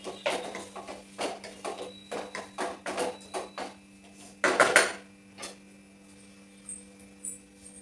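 A spoon stirs cooking tomatoes and coriander in a pot, giving a run of soft, irregular scraping knocks and clinks close by, with a louder clatter midway, then fading to sparse taps.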